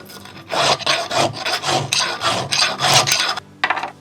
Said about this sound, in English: I'm just using the chainsaw file for that.